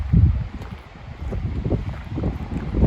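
Steady wind roars and buffets the microphone on a scenic desert drive at the Grand Canyon, a dense low rumble that swells and eases with the gusts, with no voices.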